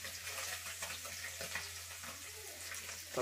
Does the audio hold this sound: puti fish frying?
yes